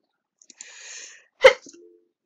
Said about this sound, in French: Pardonnez-moi, excusez-moi, j'ai éternué.